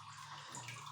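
Spring water drips and trickles steadily into a well, close by and continuous, with no voices.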